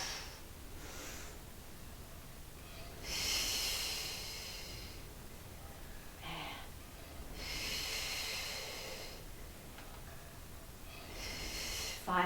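During a Pilates reformer chest-expansion exercise, a person exhales several times in airy, hissing breaths that recur every few seconds at a soft, close level, with no talking.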